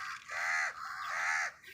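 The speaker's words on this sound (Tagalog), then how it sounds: "mga uwak, ang daming uwak." Crows being hand-fed outdoors give two drawn-out, harsh caws one after the other, loud and close, with no talk.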